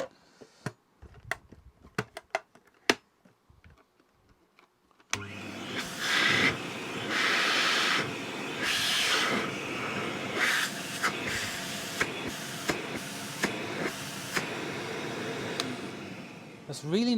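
A vintage Hoover 419 cylinder vacuum cleaner switches on after a few quiet clicks and runs with a loud, steady rushing whir and hiss, fluctuating slightly as it operates close by.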